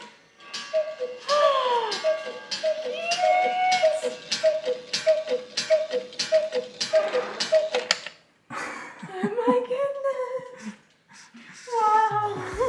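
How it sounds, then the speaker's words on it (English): A cuckoo clock in a quirky South African town gives a run of repeated, evenly paced two-note calls with tonal chiming above. The calls stop partway through and nearby voices take over. "It's a cuckoo clock."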